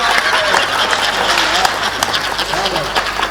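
An audience at a Hindi comedy poetry gathering claps in a steady, fairly loud round of applause, with voices audible through it for a few seconds.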